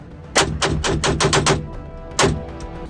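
A 9mm pistol fires seven quick shots in a rapid string, a short pause, then one more sharp shot.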